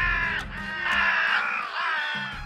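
Several crows caw loudly and harshly in overlapping, repeated calls, close and continuous with no talking.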